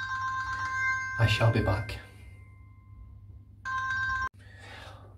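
A telephone rings in a dog grooming session, its electronic tone sounding in two bursts with a person speaking briefly between them.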